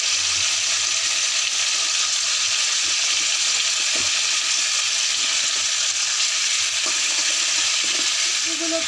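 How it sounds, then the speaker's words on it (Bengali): Vegetables for a chicken stew fry in a pan, making a continuous broad sizzling hiss with faint scraping and stirring taps, close and fairly loud, with no voice over it. "আমি ছেড়ে দেব সবজিগুলোকে।"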